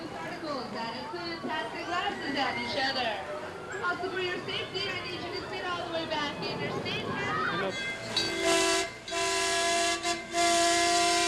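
Amusement park train at Knott's Berry Farm, its horn blasting in long sustained tones near the end after a stretch of narration and crowd chatter.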